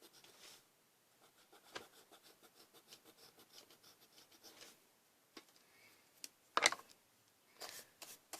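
Faint, close rubbing of an eraser going over paper in a quick run of light, rhythmic strokes, with a few louder scuffs near the end and no talking.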